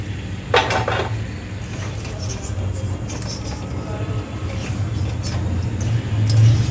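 Fried cashew snacks (khare kaju, salted namkin) being lifted out of a frying pan, with metal-on-pan scrapes and clinks from a utensil over a steady low background rumble; no talking.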